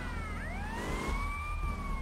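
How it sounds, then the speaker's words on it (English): Police car siren in Grand Theft Auto: Vice City, a loud wailing tone that sweeps up and down continuously over a dense rumble of game engine and traffic noise, with no talking. "That's a police car already over here."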